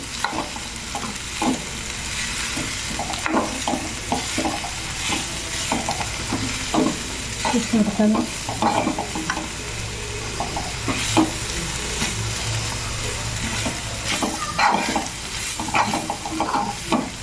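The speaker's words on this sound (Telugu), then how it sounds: "ఇది పచ్చి వాసన పోయే వరకు అంటే మళ్ళీ కొద్దిగా సేపు అలానే ఫ్రై చేసుకోవాలి" Beetroot cooking with chili and garlic in a hot pan, loud continuous sizzling broken by repeated scraping stirs of a spoon at an uneven rhythm, close by and with no talking.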